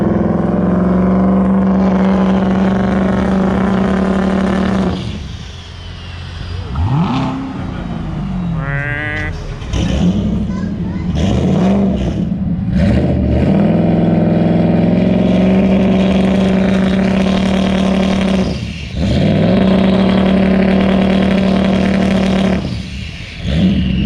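A turbocharged sleeper Ford F-150 pickup roars nearby, its engine revving up and down through repeated surges with loud sustained drones and deep rumbles, alongside a strong steady hum.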